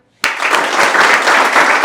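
Sudden burst of applause from an audience for students selected by top shipping companies, starting abruptly after a moment of silence and continuing as dense, steady clapping.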